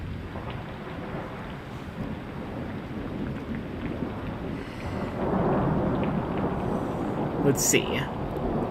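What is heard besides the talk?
thunderstorm with rain in the background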